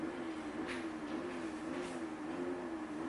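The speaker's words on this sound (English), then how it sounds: "Sorry for the noise. Some young guy's playing with his scooter." The engine of a motor scooter being played with nearby hums low and faint, wavering gently in pitch with a couple of brief airy swells.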